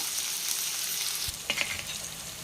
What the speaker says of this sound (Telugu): కొంచెం ఆయిల్ వేసేసి చక్కగా మూత పెట్టి మగ్గించుకుందాం